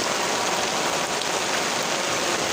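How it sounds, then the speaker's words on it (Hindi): A short burst of heavy rain falling on a garden with plants and lemon trees, a thick, constant roar of water hitting leaves and ground, loud and uninterrupted, with no one speaking. "बारिश की आवाज़ आ रही है, कितनी शदीद बारिश है।"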